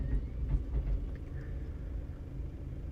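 A tractor and forage harvester filling a silage trailer in a grass field, heard as a low, steady engine rumble at a distance with no distinct individual sounds.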